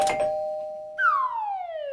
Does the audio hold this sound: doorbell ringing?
yes